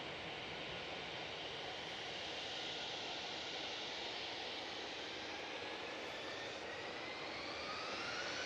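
A passenger airplane departs Manchester Airport bound for Amsterdam, its engines a steady broad roar heard from a distance, with a faint rising whine near the end and no voices.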